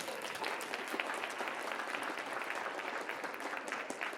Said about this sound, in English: In your applause, Dr. Ilan Karavani.